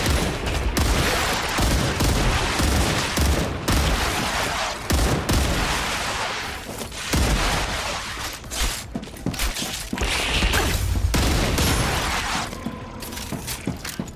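Rapid gunfire in the StarRupture video game, dense sustained bursts of shots with crashing impacts, loud and continuous across the whole stretch with brief gaps between volleys.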